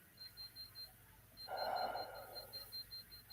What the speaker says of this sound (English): I'll get the beep again.